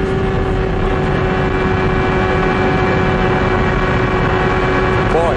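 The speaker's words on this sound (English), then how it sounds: "We'll just listen to the throttle response here" A CART IndyCar engine at the 1993 Michigan 500 holds a loud, continuous high-pitched drone at speed, steady throughout with slight throttle modulation and a brief pitch wobble at the end.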